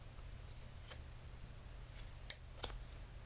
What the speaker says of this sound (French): Voilà, hop, coup de ciseau